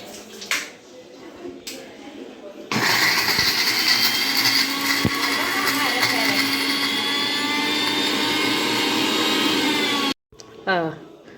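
A kitchen blender grinding coconut roars steadily and loudly for about seven seconds, starting abruptly and cutting off sharply, with brief talk before and after.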